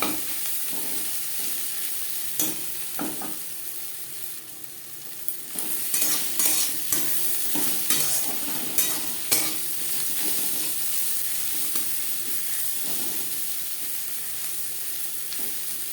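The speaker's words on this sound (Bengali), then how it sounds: "পেঁয়াজ ভাজা হয়ে গেছে।" Onions with three green chillies frying and stirred in a pan, a steady sizzle throughout with scattered sharp scrapes and clinks of the spatula, loud and close, mostly in the middle stretch.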